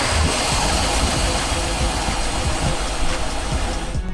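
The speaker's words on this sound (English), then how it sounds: "Brand new engine." Inboard engine of a 2003 Rinker 270 Fiesta Vee boat running, a steady, loud, broadband rumble with a deep low-end drone that holds constant throughout, with no talk over it.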